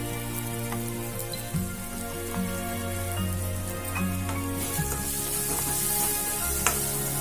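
Chicken pieces fry in a pan with garam masala and coriander powder, giving a loud, steady sizzle with crackling pops and occasional stirring scrapes, no voices.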